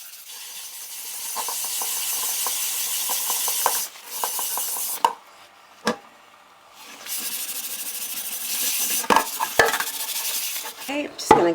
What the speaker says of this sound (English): Using my metal scourer and the pink stuff.